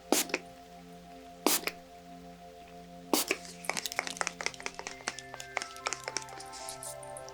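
A Mario Badescu facial spray with aloe, herbs and rose water gives a few sharp, close misting spritzes, followed by soft scattered droplet taps in a quiet room.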